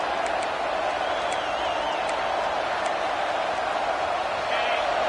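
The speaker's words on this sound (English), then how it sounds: "Decibels rising as the crowd gets behind this defense on third down" Steady roar of a football stadium crowd in a college football video game, South Carolina versus Mississippi State, a dense continuous wall of noise with faint whistle-like tones riding on top and commentary voices mixed in.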